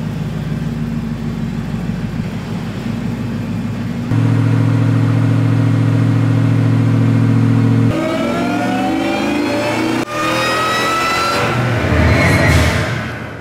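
A supercharged car engine in a Lightning pickup roars on a dyno under sustained load, a loud, close, continuous drone that climbs in pitch through the gears and rises sharply toward the end of the pull.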